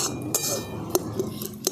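A spoon scraping and clinking against a pot while milk is stirred as it thickens for a potato chomchom sweet, a few light metallic taps over a low steady simmer.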